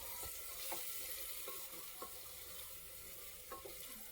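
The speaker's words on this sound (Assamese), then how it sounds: "আটাইখিনি ভালদৰে মিহলাই দিছোঁ।" Spices being stirred into paneer pulao in a pan, soft periodic scraping strokes roughly every half second over a faint sizzle, quiet and close with a hissy background.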